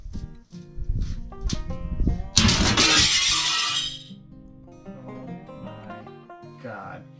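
A frosted, sandblasted glass pane shatters while being cut with a glass cutting tool, a loud crash of breaking glass lasting over a second amid clinking shards, with talking before and after.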